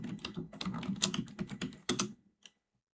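Rapid keystrokes on a computer keyboard while entering a password, a close, steady run of clicks that ends with a final key press before silence.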